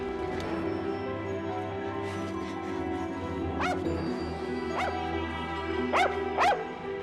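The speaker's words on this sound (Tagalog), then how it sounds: "patigilin mo yung aso" A dog barks and yips several times in sharp bursts over a steady background hum, the barks fairly close and spaced irregularly.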